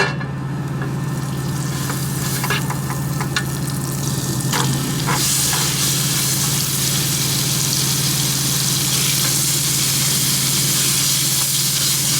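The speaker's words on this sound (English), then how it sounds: "I'm going to throw in some butter real quick, and then put the steaks right in." Steaks sizzle in butter in a thin aluminum pan, a loud, continuous frying hiss with a few scraping stir sounds early on, heard up close with no talk.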